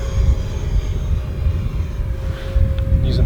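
An E-flite Viper 70mm EDF RC jet spools up from idle, a steady loud ducted-fan whine and rumble holding close and continuous throughout, with a sustained tonal hum running under the rush of air.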